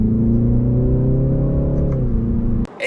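A Volvo S60 T5 in sport mode drones steadily from inside the cabin, its engine note rising gently and partly piped through the speakers by a sound generator, loud and continuous before cutting off abruptly near the end.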